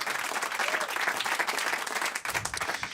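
Applause from a small audience at a radio station interview, a steady patter of clapping hands held at a constant level throughout, fairly close and with no talk over it.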